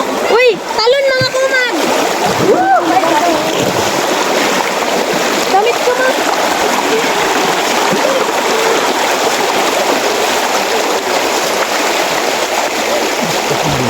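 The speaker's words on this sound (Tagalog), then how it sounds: "Oh, lakas ng agos oh. Ang lakas ng agos." A strong river current rushes and splashes steadily throughout, loud and close, while people talk over it near the start.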